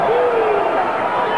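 A boxing arena crowd booing during a De La Hoya–Molina fight, a loud sustained roar of disapproval filling the hall, with a commentator talking over it.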